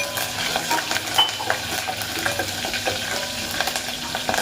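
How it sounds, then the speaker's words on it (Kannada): Chopped green chillies and curry leaves sautéing in a pan, a steady close sizzle broken by scraping stirs and light clinks of the spatula, with no voices. "ನೀಟಾಗಿ ಇದನ್ನು ಒಂದು ಸುತ್ತು ಬಾಡಿಸ್ಕೊಳ್ಳೋಣ."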